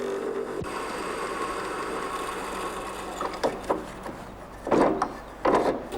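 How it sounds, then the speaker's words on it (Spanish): A lathe shaves down a bagpipe seat made of wood and tin, giving a steady whirring rub with a few rasping scrapes of the cutting tool toward the end, close and moderately loud. "En el torno, este fabricante de gaitas rebaja el asiento formado por dos materiales, estaño y madera."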